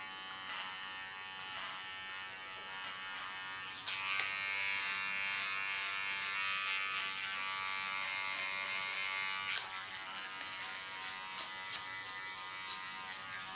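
Electric hair clipper run over a comb through a person's hair during a salon haircut, a close, continuous buzzing drone with a few sharp clicks and snips toward the end, no voices.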